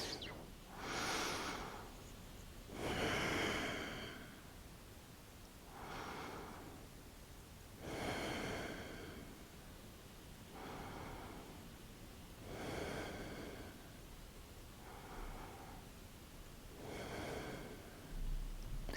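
Slow, deep breaths during a twisting yoga pose in a vinyasa hip class, each long inhale and exhale rising and fading in a steady rhythm, close and soft with no talking.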